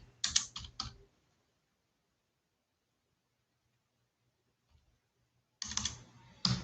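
Bursts of fast clicking keystrokes on a computer keyboard come close by, separated by several seconds of near silence.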